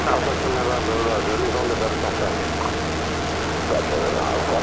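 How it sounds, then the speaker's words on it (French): A propeller airplane passes nearby an airfield, a steady loud engine drone filling the whole clip, with people talking faintly in French underneath. "Je vais juste laisser passer l'avion."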